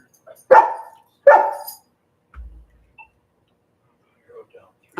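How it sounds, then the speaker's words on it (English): A dog barks twice in quick succession, fairly loud and close indoors, followed by quieter faint rustles and small sounds. "I'm going to let the dog out real quick."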